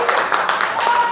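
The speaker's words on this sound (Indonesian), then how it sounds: "Tepuk tangan untuk kelas 5A." A class of fifth-grade children claps together in a classroom, a short, dense burst of applause heard up close.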